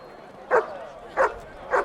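Three short dog barks from a film scene, evenly spaced about two thirds of a second apart, moderately loud over a quiet background.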